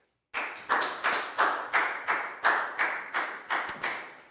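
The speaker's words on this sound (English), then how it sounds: "Big round of applause for Dan" Small classroom group clapping for a pupil, about a dozen sharp, fairly even claps in a steady rhythm, each with a quick decay, close and moderately loud with no talking.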